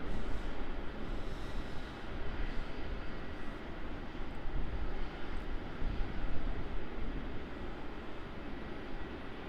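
Airliner JL774 rolls down a runway at Melbourne Airport, heard as a steady, distant, broadband jet engine roar that holds evenly throughout with no talk.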